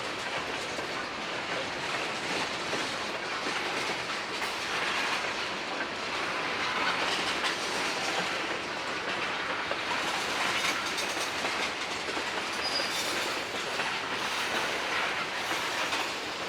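CSX and Indiana Railroad freight cars roll steadily past at close range, a continuous loud clatter of wheels over rail joints with a faint steel squeal, no voices.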